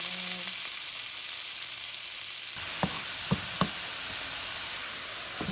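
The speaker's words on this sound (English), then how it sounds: "I'm gonna put the broccoli in with the shrimp" Broccoli and shrimp sizzling in a stir-fry pan in a home kitchen: a steady, close frying hiss with a few sharp knocks of a utensil against the pan near the end.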